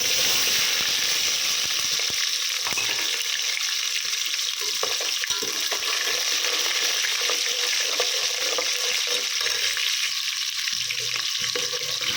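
Steady, loud sizzling of shallots frying in hot oil, with occasional scraping and stirring noises throughout.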